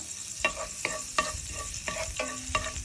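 Garlic and ginger frying in melted butter in a pan, with a steady soft sizzle broken by several sharp stirring scrapes at irregular intervals, close and moderately loud.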